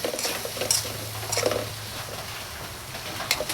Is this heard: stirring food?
yes